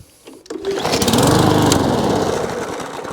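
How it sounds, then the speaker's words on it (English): A small petrol Briggs and Stratton E Series lawn mower engine catches with a sharp pull, roars loudly for a couple of seconds, then begins to falter and fade as it stalls. "So if your lawnmower is starting, but then stops"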